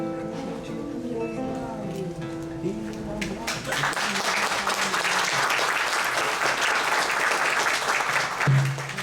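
Audience applause at a public talk on public service in crisis, a dense steady wash of clapping that rises after a few seconds of tonal sound and continues loudly to the end.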